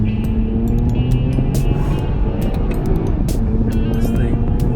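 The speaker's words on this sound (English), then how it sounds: "Give it some gas now." A 2020 Toyota Camry TRD accelerating hard in sport mode with paddle-shifted gears: a loud, continuous engine drone heard from inside the cabin, with steady road noise underneath.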